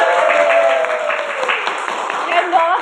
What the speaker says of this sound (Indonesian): Keren banget, tepuk tangannya mana nih?